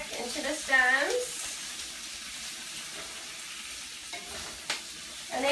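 Swiss chard leaves frying in oil with garlic and chopped stems, a soft steady sizzle with stirring, a few squeaky pan scrapes near the start and a sharp click later.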